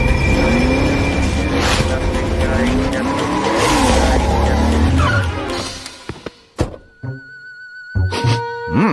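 A car skids with long squealing tires on a road, loud and sustained for several seconds, then ends in sharp thuds and clunks before quieter rattling.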